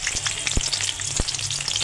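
Onions fry in hot oil for a curry with prawns, dried fish and taro stolons: a loud, continuous close-up sizzle broken by a couple of soft knocks.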